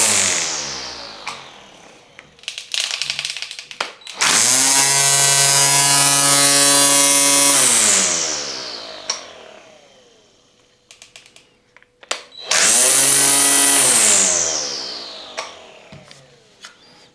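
A Parkside 20V cordless grass trimmer spins up twice in short bursts, each a loud, high whine that holds steady for a few seconds before winding down, with clicks and handling noises between runs.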